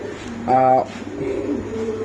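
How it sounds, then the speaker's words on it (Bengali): A male racer pigeon with opal checker plumage gives a single short coo, close by, over a low background hum and faint murmuring. "এই যে একটা রেসার কবুতর আমি একটু দেখাই"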